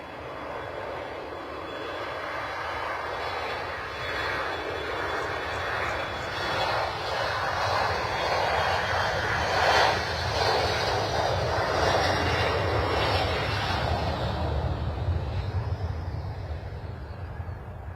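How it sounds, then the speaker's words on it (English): A Boeing 737-400 airliner at London Stansted airport roars past on a Stansted to Tirana flight, its jet engine noise swelling to a peak midway and then slowly fading as it heads into the distance. "So that was a Stansted to Tirana service, 737-400."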